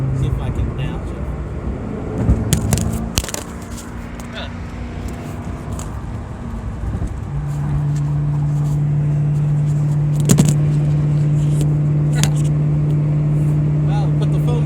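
A warm Ford Mustang Mach 1 engine accelerates on the road, with a low steady drone building and holding as it pulls, and brief bumps and rattles early on.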